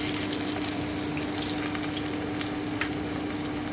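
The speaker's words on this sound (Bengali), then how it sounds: "আমি খুব ভালো করে একটু ভেজে নেব" Chopped onion and cinnamon fry in a pan for achari chicken, giving a dense, steady close-up sizzle with light crackles and occasional stirring scrapes, with no talking.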